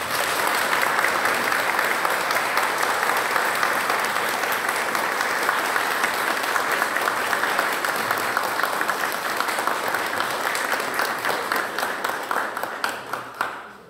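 A lecture audience at the Cecal 2025 event gives long, sustained applause, loud and dense for many seconds before tapering off abruptly at the end.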